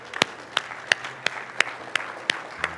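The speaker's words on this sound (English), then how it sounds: "let's give all of our mothers a round of applause" A church congregation at a Mother's Day service claps in honor of the mothers: about eight sharp, evenly spaced claps in a steady rhythm, moderately close, with no talking.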